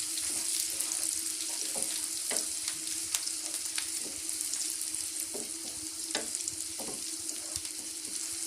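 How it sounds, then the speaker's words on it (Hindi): Onions frying in a pan sizzle continuously at a low, close level, with scattered clicks and scrapes of stirring throughout and no talking. "ये देखें प्याज फ्राई होना शुरू हो चुके हैं।"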